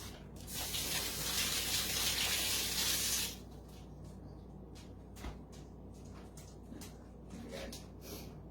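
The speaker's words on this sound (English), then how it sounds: "Let me rinse my hands." Hands are rinsed under a running kitchen tap while spinach dip is made. Water gushes loudly for about three seconds and then shuts off, leaving soft handling noises and light clatter. No one speaks.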